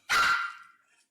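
A small yappy dog gives one sharp bark outdoors on a property, a single short yip that trails off, fairly faint and somewhat distant, with no talk over it.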